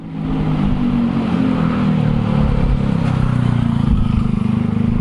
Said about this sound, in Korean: 어디서 오토바이 소리가?